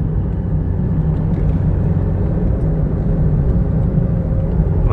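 A car drives along a winding road through forested hills near Phu Phan, Sakon Nakhon, heard as a constant low engine and road rumble, steady and fairly loud throughout, with no talking.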